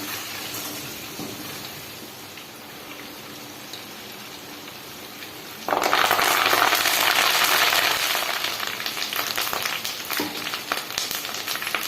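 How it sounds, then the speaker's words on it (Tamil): Butter melting into ghee over a slow flame, giving a steady close frying hiss that grows louder and denser partway through, with no talk. "நம்ம போட்ட வெண்ணெய் கட்டி எல்லாமே உருகிருச்சுங்க"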